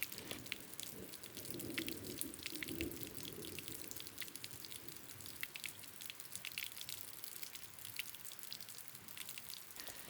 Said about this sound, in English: so the water can pour from the mountain, and you can stop and you can drink